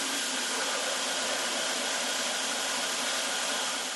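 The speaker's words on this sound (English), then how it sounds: "go real quick to the grinder and straighten that angle up so that everything goes nice and flush and even" A grinder runs continuously, squaring up the angle on a stag-handled knife, giving a steady, loud, broadband hiss and whir with no breaks and no talking.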